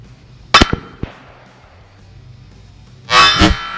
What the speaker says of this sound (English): Let's see if we can hit it with the 30-06 down there.